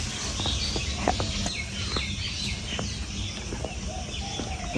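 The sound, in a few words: small chicken chicks cheeping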